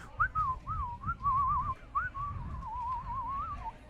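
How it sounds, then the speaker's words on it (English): A video game character whistles a bright, wavering tune through his teeth, several short phrases and then one longer warbling run, close and clear over a low background rumble. "Y'all but skips and bees all merry out of the classroom, whistling between his teeth."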